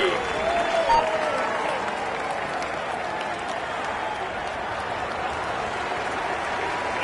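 Sustained applause from a large Tour de France crowd for a rider before a time trial, a dense wash of clapping that holds steady throughout.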